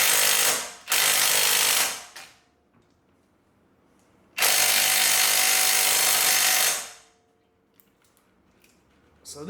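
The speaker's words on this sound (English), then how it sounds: "So this impact wrench isn't strong enough to get it out" An impact wrench works on the brake caliper bracket bolt of a 2015-2020 Cadillac Escalade in loud, close hammering bursts: two short ones, then a longer run, with quiet gaps and faint clinks between.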